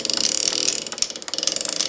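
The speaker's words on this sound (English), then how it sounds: "Wind the spring up tightly so we can put the clamp on it again" A clock mainspring winder ratchets rapidly as it winds a Sessions loop-end mainspring tight, a fast string of sharp metallic clicks close by, briefly pausing midway before the clicking resumes.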